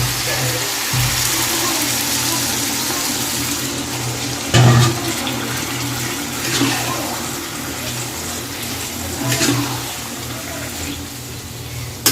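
Water is poured into a cooking pot of doi shukto, a steady splashing wash of water running throughout with a few louder knocks and sloshes.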